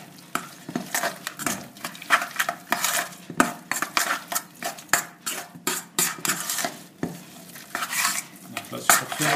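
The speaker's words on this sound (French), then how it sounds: "Le fromage blanc, je mélange un petit peu." A spoon stirs fromage blanc in a bowl, giving quick, repeated scraping and knocking strokes against the sides in an uneven rhythm, close and fairly loud, with no talking.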